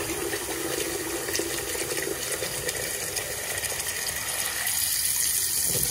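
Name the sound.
sink drain popped open, water draining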